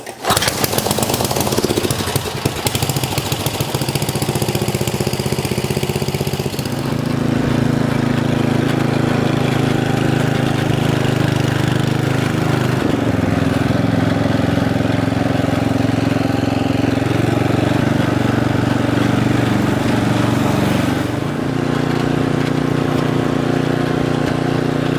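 A 1973 John Deere 56 lawn mower engine runs steadily and loud up close, a continuous mid-pitched drone with a rough start that settles into an even idle, shifting slightly in pitch a few times, with no talking.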